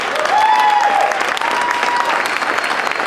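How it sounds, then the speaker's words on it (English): Loud, continuous crowd applause at the RTV Awards Celebration, a dense wash of clapping with a faint voice or note over it briefly. "Let's give everybody up here a great big round of applause."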